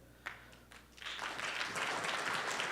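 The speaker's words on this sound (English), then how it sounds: "Hold your applause, there's more to come." An audience at a business members' event breaks into applause, starting with a few scattered claps and then swelling into steady, dense clapping from a full crowd.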